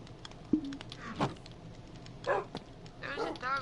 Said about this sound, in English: There's a dog right over here near a skeleton pen.